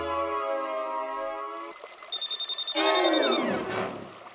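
A telephone rings with a rapid electronic trilling bell, loud and close, amid a busy comedic household scene with layered music-like tones and a whooshing sound effect.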